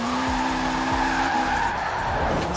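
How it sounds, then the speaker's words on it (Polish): In Forza Horizon 4, a Lancer Evo VIII fitted with lower-grip tires drifts, its tires squealing and skidding steadily over a droning engine throughout. "Ej, naprawdę fajnie się nim driftuje."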